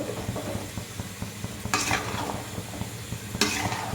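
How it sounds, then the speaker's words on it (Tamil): A spoon stirs a chilli powder, onion and tomato mixture in a pan for radish sambar, with steady scraping and sizzling and two louder scrapes against the pan partway through. "இது நல்லா மிக்ஸ் பண்ணணும்."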